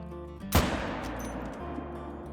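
A single sharp rifle shot rings out in a hunting video game aimed at a blackbuck, a loud crack followed by a rolling echo that fades over a couple of seconds.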